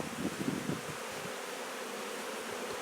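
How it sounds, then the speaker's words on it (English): Honey bees buzz steadily at an opened hive during an inspection, a continuous close-up drone with a few louder swells near the start and no talk. "These bees can just get at that little bit of this honey here"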